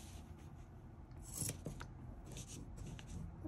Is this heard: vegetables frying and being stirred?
no